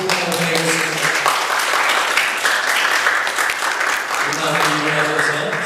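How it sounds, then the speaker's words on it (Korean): A church congregation claps to bless the children during a service, steady loud applause with organ or keyboard tones sustained underneath and a brief pause in the music midway. "우리 박수로 자녀들을 축복하도록 하겠습니다"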